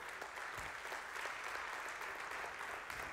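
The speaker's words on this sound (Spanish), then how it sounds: "Le das aplausos sonoro al Señor" A church congregation applauds steadily, a dense wash of clapping from many hands held at an even level throughout, heard from a moderate distance.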